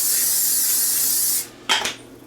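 Olive oil is sprayed onto chicken wings in an air fryer basket: one long close hiss of spray lasting over a second, then a short second spritz after a brief pause.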